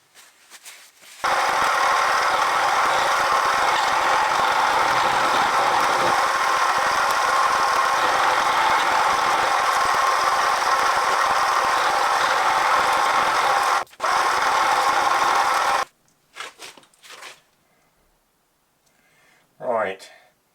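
Loud, steady machining hum from a milling machine cutting down a crankshaft balance weight, running continuously for about fifteen seconds with a brief dip, then stopping into quieter clatter and a short voice at the end.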